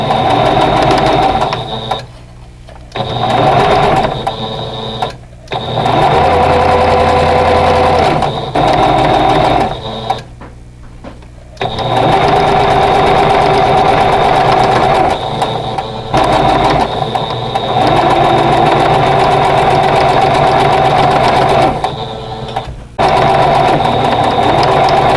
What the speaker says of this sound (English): now I'm going to sew the second 2 pieces together for the second row